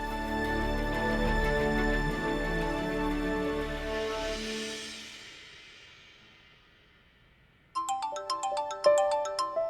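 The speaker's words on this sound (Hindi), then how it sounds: "रोशनी तेरा फोन है, उठा ले।" A loud electronic phone ringtone plays a sustained melodic tone that fades, then a new bright, beeping tune starts up.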